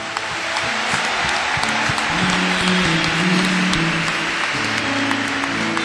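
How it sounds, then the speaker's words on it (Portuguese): Steady, loud applause from a large audience at a Catholic religious event, a dense continuous roar of clapping with faint voices and music underneath. "Por isso que a gente aplaude."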